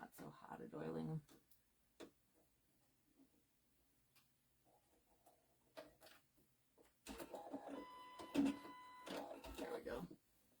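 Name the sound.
sewing machine stitching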